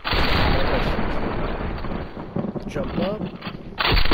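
Gunfire from the video game Fortnite, loud dense shotgun-style blasts filling the opening seconds, then a quieter stretch with a brief spoken line, before another burst of shots at the end.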